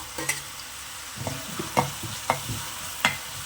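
Tomato frying in a pan for a prawn fry, a steady sizzle broken by several sharp scrapes and clinks of a spoon stirring against the pan.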